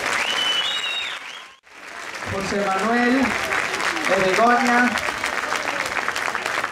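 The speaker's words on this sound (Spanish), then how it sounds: "un forte aplauso para eles" Applause from a crowd at a charity gala fills the room while a voice speaks over it, the clapping dipping briefly to near silence before swelling back up and carrying on to the end.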